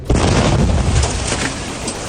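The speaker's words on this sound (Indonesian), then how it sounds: "Ledakan menghancurkan bangunan dan memicu kepanikan warga." An explosion from an Israeli airstrike on the Al-Maghazi refugee camp destroys a building, a loud, dense boom followed by about two seconds of sustained rumbling debris and roar.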